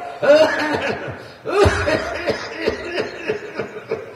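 During a religious sermon, a preacher imitates a cough with several short, rough coughs and throaty chuckles in a reverberant hall, mixed with brief laughter.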